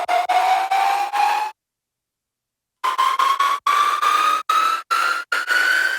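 A sub bass sample layered with effects, made in Ableton, plays as loud, repeated chopped pulses of a rising tone with rich harmonics, stopping for about a second before the stuttering bursts resume.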